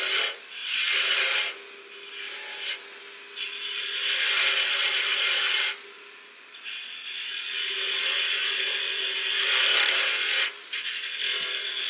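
A chisel peels wood toward the chuck on a lathe turning a Christmas ornament, producing a loud, close, continuous rasping scrape broken by several brief pauses as the tool lifts off the spinning wood.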